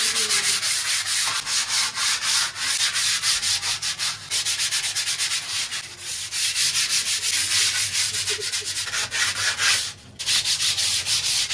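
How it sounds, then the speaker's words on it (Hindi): Sandpaper rubbing over wood, steady rapid back-and-forth strokes, close and loud throughout with a brief pause near the end, no talk. "चलते हैं रेगमाल मारते हैं इसमें फटाफट से"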